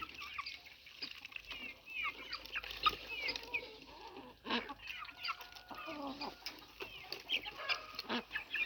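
Chickens clucking and murmuring close by, with scattered short calls and occasional louder squawks over a quiet outdoor background.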